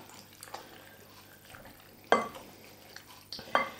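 A wooden spoon stirs rabbit pie filling with lime and water in a pot, giving soft wet scrapes and a few sharper knocks and clinks against the side, close and fairly quiet.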